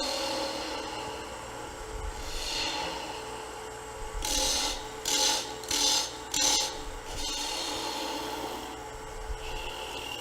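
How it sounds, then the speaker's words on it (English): A 5/8 bowl gouge thins the stem of a wooden spindle turning on a lathe at a live demonstration. A steady rough scraping hiss is broken by several short, brighter rasping cuts in quick succession midway through. "Got my 5/8 bowl gouge. We'll start doing some stem thinning."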